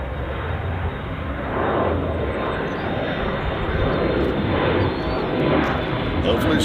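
A passenger airplane takes off at Chicago O'Hare International Airport, its engines a broad, loud roar that swells and holds steady as it passes.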